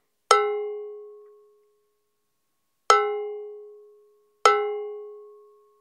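Cowbell damped to reduce its overtone ring, struck three times alone with gaps, each hit a sharp metallic clank that fades fairly quickly.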